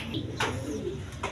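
Pigeons offered at a sale coo in low rolling calls, with a brief chirp in the background, moderately close and continuous.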